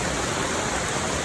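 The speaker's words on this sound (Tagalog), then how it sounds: "So lakas ng ulan mga palangga." Heavy morning rain pours outdoors as a dense, unbroken hiss of water filling the whole scene, loud and constant with no voices.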